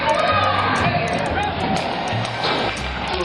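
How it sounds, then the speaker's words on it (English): Loud crowd at a high school event, a dense roar of voices with yells and whoops that stays full for a few seconds, then eases slightly. "And the crowd is electric."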